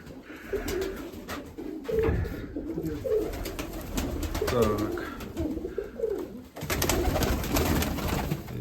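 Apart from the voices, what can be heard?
pigeons cooing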